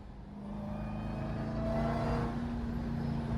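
A widebody Jeep Trackhawk drives steadily, its supercharger whine rising and holding over a continuous engine drone heard from inside the cabin, fairly loud throughout.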